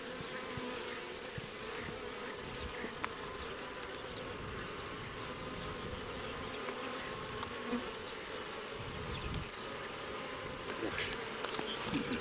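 Buckfast-derived worker honey bees, field foragers, buzz steadily at an open hive, a dense continuous drone with occasional louder passes of single bees close by.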